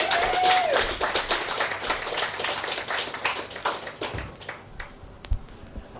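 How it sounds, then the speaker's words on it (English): An audience at a poetry club reading claps, starting fairly loud and thinning into scattered, individual claps that fade out toward the end. "Let's clap, Tim."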